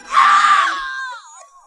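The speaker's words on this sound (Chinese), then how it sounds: "外面就传来了惨叫" A single loud scream of pain rises from outside, an animation sound effect, strained and wailing at first, then thinning into a fading, wavering cry.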